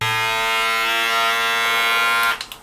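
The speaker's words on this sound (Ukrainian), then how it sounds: "я навіть вам можу показати свою бритву, вона значно гучніше працює" An electric shaver hums loudly and steadily at close range with a bright buzzing tone, then switches off with a few brief clicks as the motor stops.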